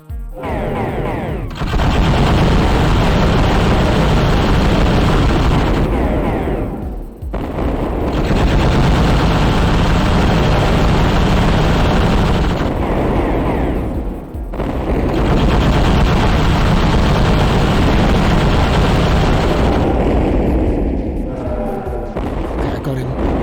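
Player weapons in a mech shooter game fire in long, dense bursts of loud, rapid gunfire with booming impacts, broken by short pauses between volleys, with speech mixed in.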